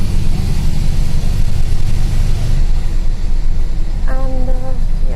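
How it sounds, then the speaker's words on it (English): Inside a moving bus on a road near Tosno villages, a loud steady rumble of engine and road noise fills the cabin, with a brief tonal squeal or beep near the end. "I hope you like my bus ride."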